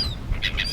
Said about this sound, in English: the seagull's chasing him